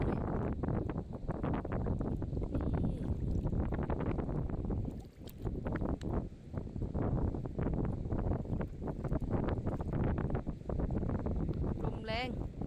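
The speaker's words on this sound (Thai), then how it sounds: "ลมแรง" Strong wind buffets the microphone on a rocky shore at low tide, a loud, steady roar with gusty surges over the whole stretch and a brief lull midway.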